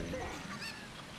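A cucco chicken in The Legend of Zelda: Ocarina of Time gives a short, close, nasal squawk that rises and falls, heard on its own over a faint game background.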